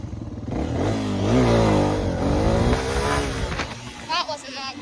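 A dirt bike engine on a track in second gear, revving loudly and close, rising and falling in pitch through the gear with a rough mechanical edge.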